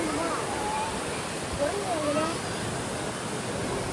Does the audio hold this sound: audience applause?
no